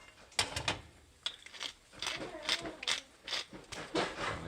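A hand pepper grinder cracks peppercorns over scrambled eggs in a kitchen, giving a quiet run of repeated ratcheting crunches in short twisting bursts.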